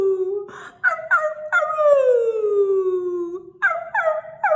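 A group of people imitates a howl, with rising-and-falling vocal "arroo" calls repeated in a steady rhythm, loud and close, with short gaps between the calls.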